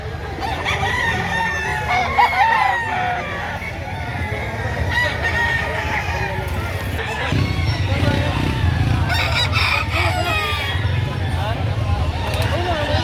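A gamecock rooster, a sweater bullstag, crows amid the bustle of a poultry market, its calls rising over a steady babble of voices, nearby chatter and background noise.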